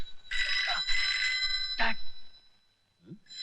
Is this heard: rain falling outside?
no